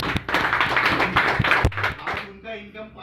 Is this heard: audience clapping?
yes